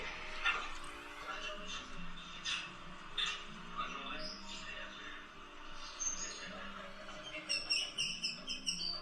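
Small dogs whimpering and yipping in a recording played back from a device, faint high whines and short barks scattered over the stretch, with a person talking over them.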